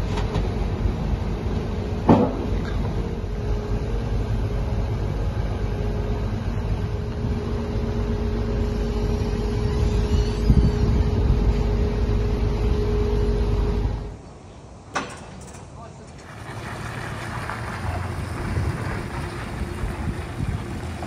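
A lorry hauling a farm machine away from an arable farm yard gives a loud, steady engine rumble close by, which drops off sharply partway through and continues more quietly afterward, with no talking.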